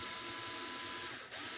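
A string winder cranks a nylon classical guitar string onto the tuning post, giving a steady, quiet whirring ratchet-like spin that runs close and alone, with a brief dip near the end.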